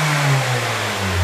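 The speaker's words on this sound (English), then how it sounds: "race the car up again, Pierre. You'll hear it and you'll see it." A car engine revs steadily and loudly up close in a workshop, holding a high, droning pitch that dips slightly and climbs again, with no talking.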